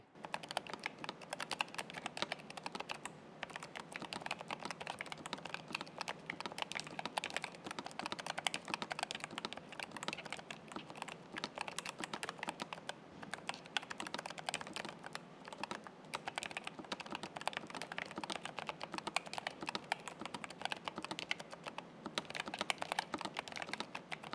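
Continuous fast typing on a NuPhy Air75 V2 low-profile mechanical keyboard, dense clacky keystrokes at a quiet, even level with no voices.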